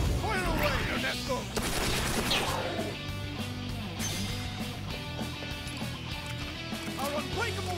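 Rapid gunfire and crashing impacts from a battle in the video game Persona 5 Tactica, dense and continuous over a game music bed, with voices speaking through it.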